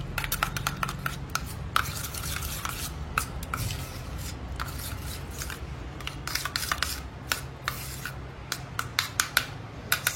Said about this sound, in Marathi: आता हे स्नॅपिंगचा पेरी पेरी मसाला आहे तो पण टाकते आणि चांगलं मिक्स करून घ्यायचं.